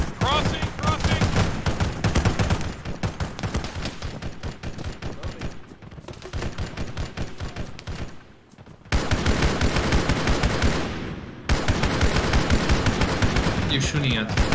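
Rapid bursts of automatic gunfire in Halo crackle almost nonstop, loud and close, with a brief lull in the middle before heavy firing resumes; voices occasionally speak under the shooting.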